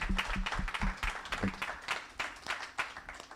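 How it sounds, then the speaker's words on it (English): Applause from a conference session audience at Dreamforce for a digital banking panel: a modest, uneven patter of clapping across a few seconds, moderately loud and somewhat distant, with no talk over it. "Big round of applause for them,"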